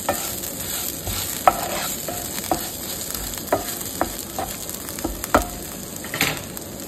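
Shol fish tail frying with flat beans in a pan: a steady low sizzle with scattered clicks and scrapes of stirring, close and fairly quiet, no voices.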